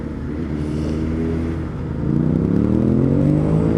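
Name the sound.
another rider's motorcycle engine revving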